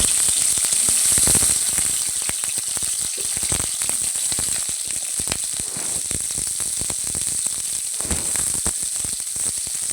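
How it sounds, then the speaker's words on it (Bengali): Cauliflower frying in a hot kadai gives a loud, continuous sizzle with dense crackling pops throughout, close up and with no voices. "এবার আমি ফুলকপিগুলো ভালো করে ভেজে নেব।"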